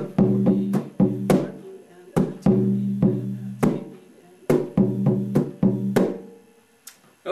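Surdo drum played in a Rio samba rhythm variation with an extra slap, sounding as a repeating pattern of resonant low strikes and sharp slaps, close and clear with no talking.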